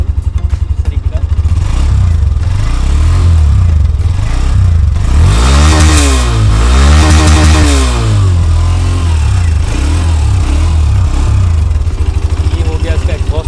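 Hero Xtreme 125R motorcycle engine idling, a loud, steady close-up thrum with a brief rev swell midway, someone talking over it.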